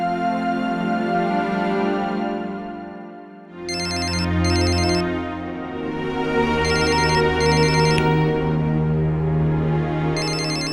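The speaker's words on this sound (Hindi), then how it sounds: "धीराज के किसका फोन है?" A phone ringtone plays loudly and continuously, a melodic electronic tune with repeating bright chiming bursts, nearby and alone with no talking.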